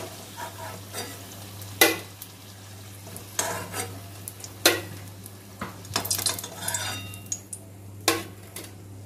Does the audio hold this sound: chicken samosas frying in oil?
yes